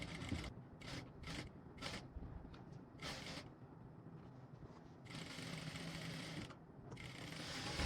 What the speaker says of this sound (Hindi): ये देखिए इस प्रकार से हमें सिलाई कर लेना है।